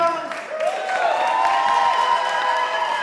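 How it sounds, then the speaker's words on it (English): A crowd at a community arts festival applauds an arts team, steady clapping and cheering from an audience for a few seconds with voices blended in. "Give Claire's Skimstone Arts team a big round of applause."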